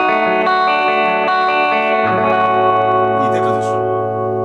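Killer Pirates MKII electric guitar on a clean tone with reverb plays sustained ringing notes and a few chords, then a lower note rings out with a lingering reverb tail, loud and close with no voices.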